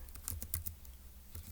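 Fingers typing on a computer keyboard, a quick irregular run of light clicks and taps at close range, fairly quiet and with no talking.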